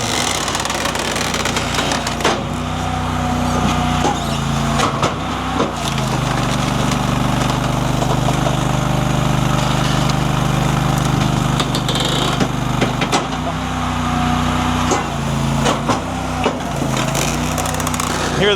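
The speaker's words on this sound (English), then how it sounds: "Hear this thing shift into its lower stage there" Up close, a Fuelwood Splitta 600 firewood processor drones steadily and drops into its lower hydraulic stage, the engine note shifting and wood cracking under load, with clunks at the transitions.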